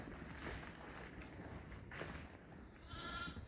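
Sheep bleating in a lambing barn at night, faint, short calls over a low, noisy background.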